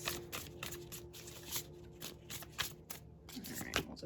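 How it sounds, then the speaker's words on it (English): Tarot cards being shuffled by hand in a string of quick, crisp riffling bursts, close and fairly quiet, with no talking over them. "Shuffle just a little bit more"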